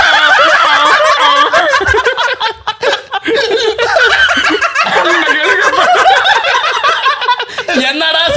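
A person imitates a donkey's bray, a loud, continuous run of strained, wavering honks and snickering cries lasting throughout, close to the listener and almost unbroken.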